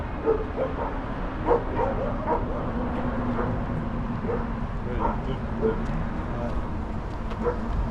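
Several dogs bark and yip repeatedly in the distance in Japan over a constant low rumble, with a brief spoken word near the start.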